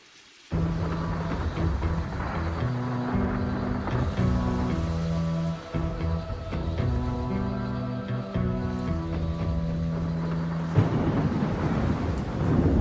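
Thunderstorm opening a song intro, a continuous wash of rain and wind with rumbling thunder, loud and steady under sustained musical tones, no voices.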